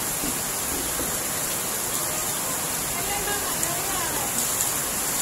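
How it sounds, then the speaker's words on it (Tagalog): Steady hiss of heavy rain pouring down, a dense even wash of noise throughout with no clear breaks. "Tubig sa ulan galing sa langit."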